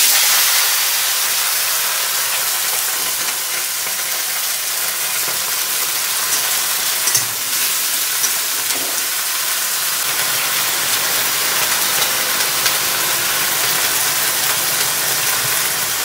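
Mixed vegetables dropped into hot oil tempered with radhuni spices, a steady loud broadband sizzle and hiss of frying that continues unbroken throughout, with no talk over it.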